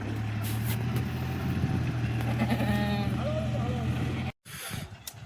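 Kathiawari goats and kids bleat in a short, busy burst of calls over steady low vehicle engine noise, with voices talking nearby and a brief dropout near the end.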